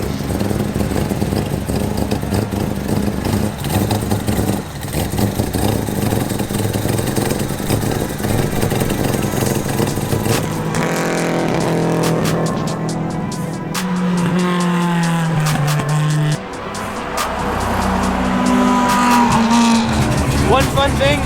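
A four-rotor rotary race car drives at Lime Rock Park, its loud engine droning steadily before climbing and falling in sharp revving sweeps as it works through gear shifts.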